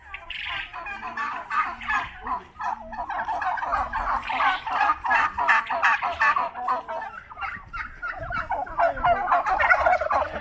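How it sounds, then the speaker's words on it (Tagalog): Several turkeys gobble in repeated bursts at a livestock market in Buraydah, loud and near, with overlapping calls from other fowl and people talking quietly underneath. "Ito yung turkey talaga, eh."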